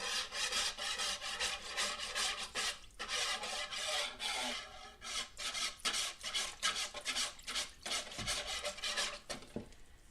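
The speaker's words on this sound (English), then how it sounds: "Now, with this thing, I am going to" Paper marbling paint being mixed with a tool, giving a steady, close scraping and rubbing texture with repeated rhythmic strokes throughout and no talking.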